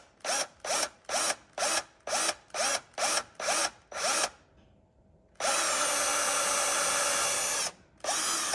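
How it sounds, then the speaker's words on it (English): Power drill boring into HDPE plastic, a quick series of about nine short whirring bursts, then a pause and one long steady high-pitched run, close and loud. "I found the best way to drill into HDPE is to step up from small"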